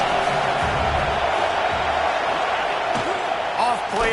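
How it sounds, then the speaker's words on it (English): A football stadium crowd roars steadily during a drive in the red zone, with a loud, constant wash of cheering and a voice talking over it. "this crowd is at fever pitch"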